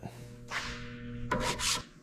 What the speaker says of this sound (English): we're just hitting this rear section with the sander now, trying to get all this pitted rust off